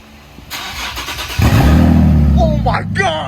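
A Nissan 370Z engine, run with no exhaust fitted, cranks and catches, then idles loudly with a deep rumble while people exclaim excitedly nearby.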